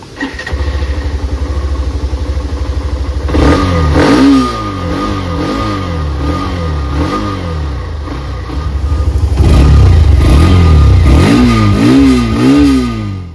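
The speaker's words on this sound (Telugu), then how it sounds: "ఇప్పుడైతే దీని యొక్క ఇంజిన్ స్టార్ట్ చేసి మనం దీని యొక్క ఎగ్జాస్ట్ సౌండ్ ఎలా ఉందో ఒకసారి విందాం" A Hero Xtreme 125R motorcycle idles loudly up close, its single-cylinder exhaust thumping steadily, then is revved repeatedly in rising and falling bursts, with a stronger run of revs toward the end; no one speaks.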